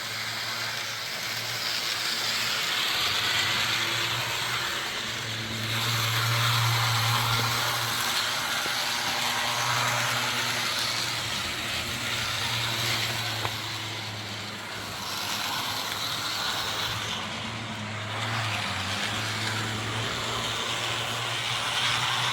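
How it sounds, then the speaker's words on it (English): A model train locomotive pulls a consist of cars, giving a steady motor whir and low hum with a rolling rhythm, close and continuous throughout. "I'm ready to see her pull some cars."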